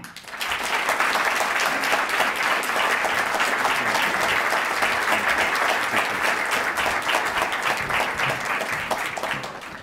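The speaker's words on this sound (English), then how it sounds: "let's give a big round of applause" A crowd gives sustained, loud applause welcoming the chairman of a real estate association at a conference, steady dense clapping lasting nearly ten seconds before tapering off.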